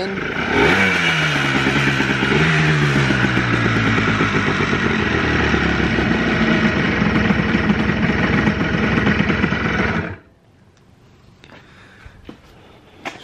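A cheap Blaster engine idling roughly with a few sharp revs early on, loud and close, running steadily for about ten seconds before cutting off abruptly into quiet.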